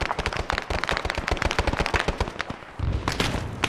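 Sustained rapid machine gun fire in Arma 3, a Vietnam-era military shooter, with dense rattling bursts of shots and overlapping distant gunfire and a deeper rumble joining near the end.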